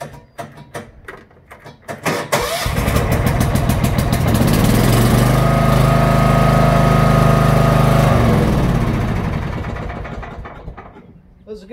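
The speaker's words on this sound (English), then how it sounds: "It was a good running lawnmower." John Deere 160 lawn mower engine cranking with rapid clicks, then catching and running loud and steady close by before winding down.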